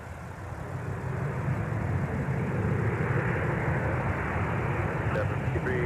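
Steady broadband roar of a jet airplane taking off at MSP airport, heard from a distance at constant loudness for the whole stretch, with no voices over it.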